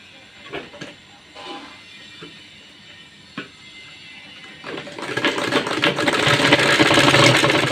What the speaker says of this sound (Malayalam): ചുറ്റിലും റൗണ്ടിൽ ഇങ്ങനെ മടക്കി സ്റ്റിച്ച് ചെയ്തെടുക്കുക, തയ്ച്ചെടുക്കുക